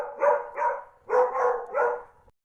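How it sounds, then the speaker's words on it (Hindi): Dogs bark outside a mansion as a story effect: four loud, close barks in two pairs, with brief gaps between them and no talk. "अचानक हवेली के बाहर कुत्तों का झुंड जोर जोर से भौंकने लगा"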